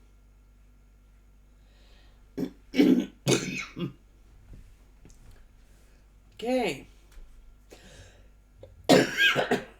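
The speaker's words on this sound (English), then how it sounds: "I've had a cough all day, which is very difficult for me to talk" A few harsh coughs and throat clearings break a mostly quiet stretch, scattered at irregular intervals, close to the mic, with a brief spoken word among them.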